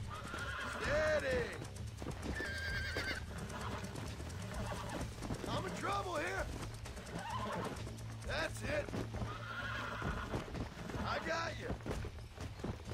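A horse in Red Dead Redemption 2 whinnies several times with wavering, high neighs, and hooves shuffle beneath a steady low hum and scattered game sounds.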